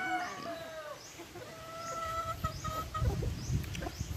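A pullet of a gamefowl breed clucks repeatedly in short calls at close range, with other chickens crowing and calling nearby in a farmyard.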